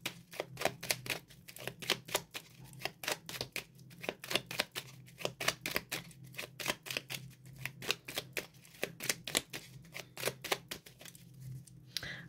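Petit Lenormand oracle cards are shuffled by hand, producing a long, steady run of crisp, rapid snapping flicks at close range, with the occasional brief pause in the rhythm.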